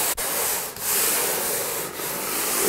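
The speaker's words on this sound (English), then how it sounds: "we're going to also need to sand in between coats. So we want to go completely up and down here." Sanding a primed drywall wall between coats gives a steady, close, continuous abrasive rubbing, with brief pauses where each up-and-down stroke changes direction. No talking.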